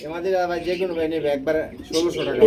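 Two grey bar Lahori pigeon hens cooing close by, soft repeated throaty coos under someone talking steadily in the foreground.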